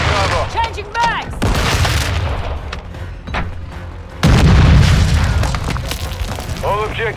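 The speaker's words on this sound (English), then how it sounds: "Throwing Semtex!" Explosions and booming gunfire from a Semtex grenade in Call of Duty Modern Warfare 2 Domination multiplayer, with a heavy blast near the middle, scattered shots throughout and in-game voice callouts over the battle.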